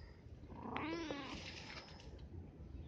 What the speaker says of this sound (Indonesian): Kucing mencari ibunya.